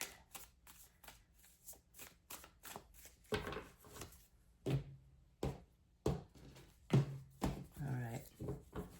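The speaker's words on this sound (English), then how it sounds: "I'm going to cut the deck." A deck of tarot cards is cut and shuffled, with repeated crisp riffling flutters and soft slaps at close range, growing busier toward the end, and no voice over it.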